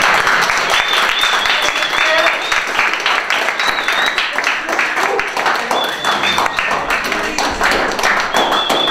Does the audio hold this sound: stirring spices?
no